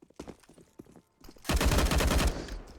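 Gunfire in a CS:GO match on the Train map, with pistols and a scout rifle: a scattering of quiet shots is followed by a loud, dense burst of rapid fire lasting about a second, with no voices.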